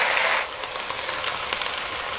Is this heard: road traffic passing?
no